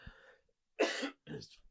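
A couple of harsh, rough coughs burst out close by, separated by brief silences.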